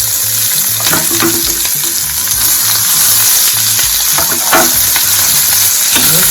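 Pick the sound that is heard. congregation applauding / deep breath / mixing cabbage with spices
mixing cabbage with spices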